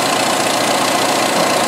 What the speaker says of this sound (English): the engine's idling a lot smoother